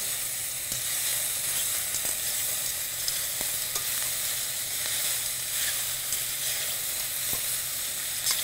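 Vegetables sizzle steadily in a hot frying pan while a utensil scrapes and stirs them in irregular strokes, a constant close hiss with no talking.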